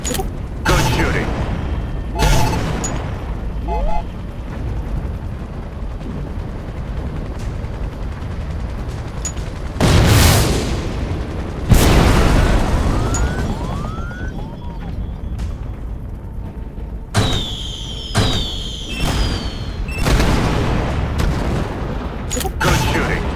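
Gunship fire and explosions in the video game Shadow Strike: heavy booms and bursts of gunfire erupt loudly at intervals, with mechanical whines and radio chatter in between.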